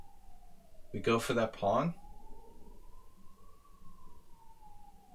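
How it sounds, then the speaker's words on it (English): An ambulance siren wails faintly in the distance, a long slow rising and falling tone running under a man's brief speech and continuing alone afterward. "Now the ambulances are getting started."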